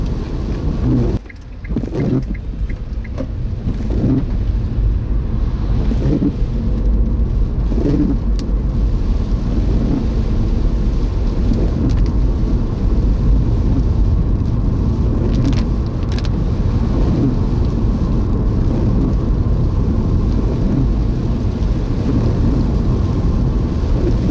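Steady rain hisses over a low rumble, a continuous wash of patter with a brief dip near the start and faint knocks scattered through.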